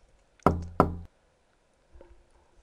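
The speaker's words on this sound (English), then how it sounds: "I'm just gonna knock on everybody's door." Two sharp knocks on a door in the video game The Crooked Man land close together, followed by a softer faint thud a moment later in an otherwise quiet room.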